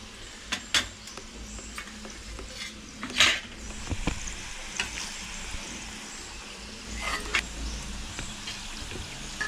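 Rice flour murukku is dropped into hot oil and fries with a soft, steady bubbling hiss, broken by several sharp clicks and clatters of utensils at irregular moments.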